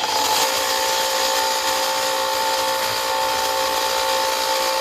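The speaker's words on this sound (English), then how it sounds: "moving over to the smaller disc sander." A small disc sander runs continuously, close by, giving a steady whirring hum with a high tonal whine and no breaks.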